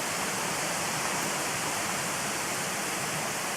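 Runoff water draining from behind a trailer into a creek: a steady, broadband rushing and splashing flow, close and constant with no pauses.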